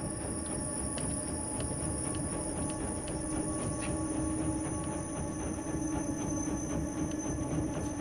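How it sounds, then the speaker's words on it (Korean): A train rolls past in the video game INSIDE, a loud, continuous rumble with faint periodic clicks and squealing high tones, heard alone without voices. "저 기차는 뭐야"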